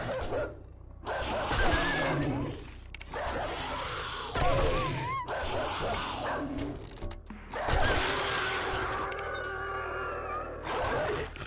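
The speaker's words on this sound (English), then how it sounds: "See, that's the thing I don't like about the dogs. They got the same sound effect as, like Cindy and all them." Dogs bark and yip in the survival video game 7 Days to Die, several loud, close barks and whines in bursts over a dense layer of game noise, with no talking.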